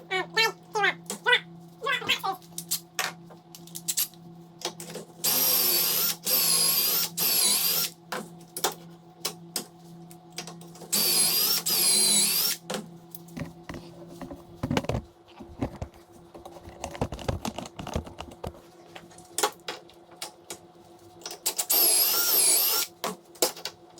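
Power drill boring pocket screw holes in a Doug fir door, several loud sustained whirring bursts of a few seconds each separated by clicks, handling knocks and brief pauses, close up.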